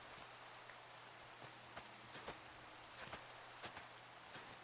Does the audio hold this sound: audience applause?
no